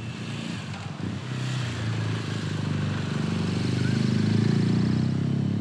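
A motorcycle engine hums steadily as the bike rides along a valley road in the Tarentaise, the low drone swelling gradually louder and nearer over several seconds with no talking.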